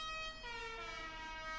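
A musical Do-Re-Mi car horn in GTA Online sounds a sustained, fairly faint tonal blare that shifts pitch partway through.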